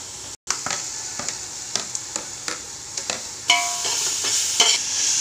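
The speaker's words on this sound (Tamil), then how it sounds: "இஞ்சி பூண்டு பேஸ்ட் நல்லா வதங்கிடுச்சு." Ginger garlic paste frying in a pan for a vegetable biryani, a steady sizzle broken by regular scraping stirs, growing louder and hissier toward the end, with no talking.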